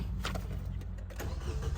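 A Nissan car engine starting, misfiring from a faulty ignition coil: a few quick cranking bursts lead into a steady running rumble, close and moderately loud, with no speech.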